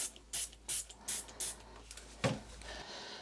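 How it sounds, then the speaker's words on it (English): Several short, sharp hissing bursts of a cleaner spray bottle in quick succession, sprayed inside a washing machine door, followed by a single louder spritz near the end. "And then just give the door a spray from the inside."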